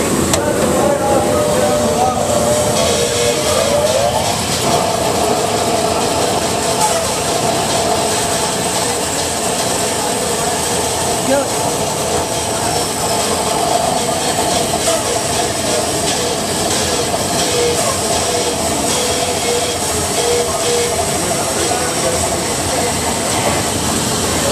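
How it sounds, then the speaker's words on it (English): Vertical bandsaw running at full speed and cutting plate, a loud, continuous whirring and grinding roar that holds steady throughout, with a person talking over it. "You need to make sure that the vertical bandsaw reaches full speed before you cut."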